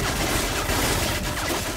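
Heavy gunfire from the Call of Duty Modern Warfare 3 video game, a dense, continuous barrage of overlapping shots, loud and close throughout with no gaps.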